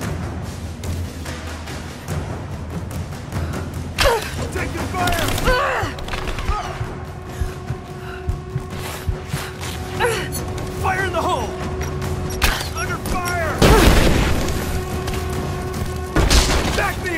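Gunfire and explosions in the video game Rise of the Tomb Raider: booms and thuds crack out irregularly over a busy battle soundscape, with sharp loud bursts near the end and shouted voices mixed in.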